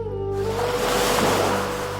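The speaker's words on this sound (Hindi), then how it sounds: "आती जाती लहरों की आवाज़ सुनिए" Ocean waves wash in at a seashore as a soft, steady swell of surf that rises and ebbs over a sustained low musical drone. No voice is heard.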